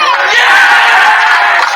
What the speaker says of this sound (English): this play from the Raiders sent the crowd roaring